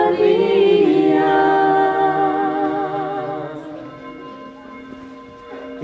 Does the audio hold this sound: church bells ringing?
yes